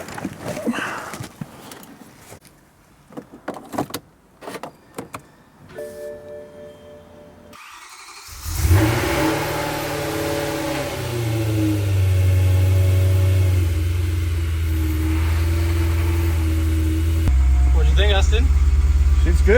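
A BMW P65 V8 race engine taken from a Z4 GT3 and swapped into a BMW 1M fires up after some clicks and cranking, then settles into a loud, rough, steady idle with rising revs, with voices talking briefly before the start.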